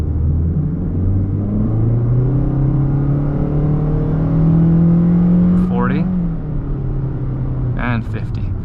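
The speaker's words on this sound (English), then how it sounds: "Listen to the engine this time. It's really gonna strain when we want speed." A 2021 Toyota Corolla engine drones and climbs steadily in pitch as it labors to pick up speed, then shifts down, with brief voice sounds near the end.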